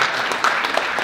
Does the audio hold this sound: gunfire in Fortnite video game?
no